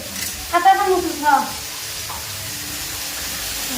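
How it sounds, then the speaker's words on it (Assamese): Lesera frying in a pan at home, a continuous soft sizzle running beneath a voice speaking briefly near the start, then steady frying alone. "আৰু মই এতিয়া লেচেৰা ফ্ৰাই কৰি আছোঁ দেই"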